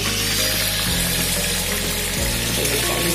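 A mini ultrasonic washing machine, 5.1 inches, runs submerged in water, giving a dense continuous hiss and buzz with stepped mechanical hum shifts, close and steady, without any voices.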